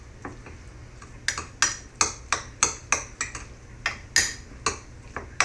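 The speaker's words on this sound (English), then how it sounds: "We're going to mix this in a little more" Chicken stuffing mixture with peppercorn stirred in a bowl, a quick run of sharp clinks and taps from the utensil, irregular and close, with no voices.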